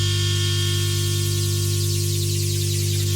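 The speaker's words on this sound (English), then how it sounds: "I added a glitch from Oversampled's Project X" A glitch effect from Oversampled's Project X sounds alone, a dense, steady buzzing hum with static texture that holds unchanged for about three seconds.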